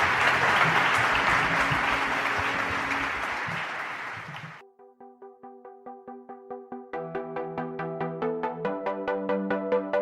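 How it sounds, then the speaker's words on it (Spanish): A warm burst of audience applause fills the first few seconds with dense clapping, then fades out as a plucked, tonal musical jingle with repeating notes takes over. "Pues os lleváis este calurosísimo aplauso de todos los puertollaneros."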